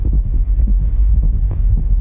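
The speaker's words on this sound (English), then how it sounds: "She likes to put her head to his chest and listen to his heartbeat." Human heartbeat heard with an ear pressed to a chest, loud, muffled low thumps in a steady rhythm under a constant rumbling hum.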